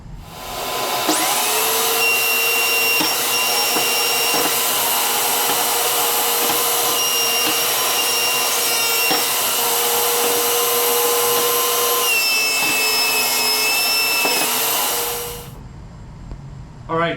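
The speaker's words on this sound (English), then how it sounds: "plane the glued up cutting board flat on both sides" A power planer flattening a glued-up wooden cutting board, giving a loud, steady high-pitched whine that runs for about fifteen seconds before stopping abruptly.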